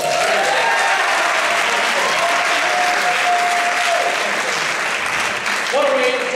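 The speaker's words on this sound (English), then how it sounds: "One more round of applause." Steady, loud audience applause fills a comedy show venue throughout, with a few whistles and cheers rising over the continuous clapping.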